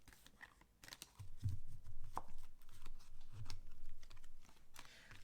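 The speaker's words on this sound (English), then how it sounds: "going to give these another shuffle" A deck of tarot cards is shuffled close up, a quiet run of soft riffling and tapping clicks lasting several seconds with no talking.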